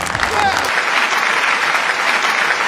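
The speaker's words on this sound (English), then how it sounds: "Clap on for yourself!" A studio audience on a comedy show breaks into loud, sustained applause, dense continuous clapping that stays steady throughout.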